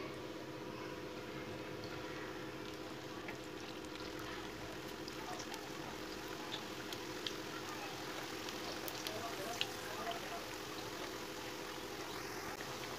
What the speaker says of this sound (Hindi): ऑयल हमारा गर्म हो चुका है। अब कबाबों को डाल लेंगे।